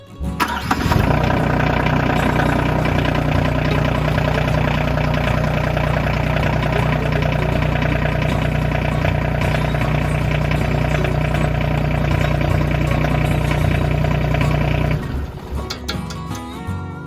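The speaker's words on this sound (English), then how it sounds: "we're gonna start the tractor and see what we get." An RK25 T25 tractor engine cranks and catches, then idles loudly with a steady low chugging drone for about fourteen seconds before cutting off abruptly, leaving scattered clunks and handling noises.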